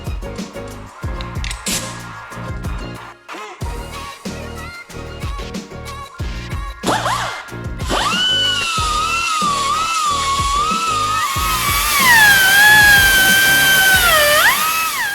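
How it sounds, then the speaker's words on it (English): A power grinder whines continuously at high pitch, grinding rivet heads off on a Mustang, its tone rising and falling as it bites into metal, preceded by rapid mechanical rattling and clatter. "I'll kind of grind off the head of those and just pop those off"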